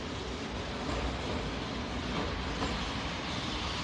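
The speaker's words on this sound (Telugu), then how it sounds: "ట్రైన్ ఇప్పుడు 3వ ప్లాట్ఫామ్ కి వచ్చింది" Steady broadband rumble of a train rolling along the tracks as it arrives at a station platform, continuous and fairly loud throughout with no voices.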